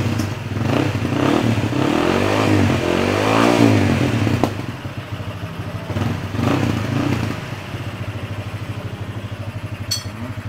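Honda Winner motorcycle engine fitted with a 60.3 mm bore kit, started up after rebuild and revved hard several times up close, then settling into a rough, steady idle with some mechanical clatter.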